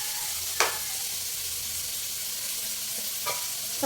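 Squid fries in a pan with a steady close sizzle, broken by two short scraping strokes of a spoon stirring it.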